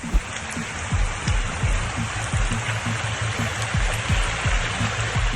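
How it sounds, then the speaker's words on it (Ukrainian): Steady rushing flow of water and mud, a continuous close wash with small splashing pulses running throughout. "На кадрах потоки глини, що сповзають після дощу"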